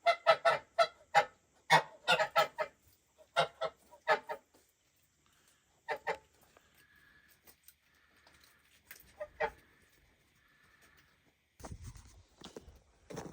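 Geese on a farm honk in a rapid run of loud, close calls, then pause and resume with scattered honks and a few softer murmurs.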